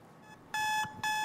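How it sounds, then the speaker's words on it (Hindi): An alarm clock beeping insistently in loud, steady electronic tones that cut off briefly and start again, sounding close and alone with no voices. "ये क्या अलार्म बजे जा रहा है बार बार?"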